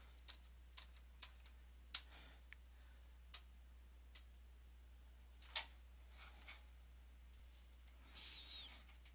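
Keys on a computer keyboard pressed one at a time, sparse clicks spaced a second or so apart in a quiet room, faint and close.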